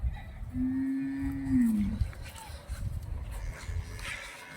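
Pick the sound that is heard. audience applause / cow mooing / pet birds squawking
cow mooing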